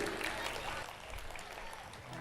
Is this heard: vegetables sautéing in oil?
no